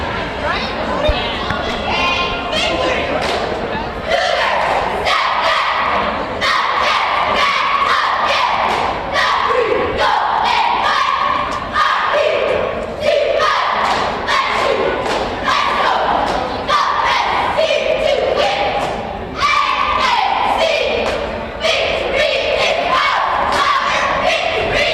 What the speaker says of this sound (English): Varsity cheering squad on the floor.